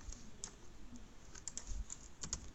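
Quick typing on a computer keyboard, a run of light, close key clicks at an uneven pace over quiet background hiss, with no one speaking.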